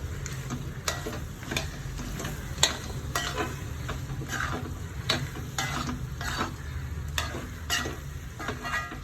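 Ground coconut is stirred in a hot pan with a soft continuous sizzle, while repeated scraping strokes of the spoon land in a loose, regular rhythm throughout.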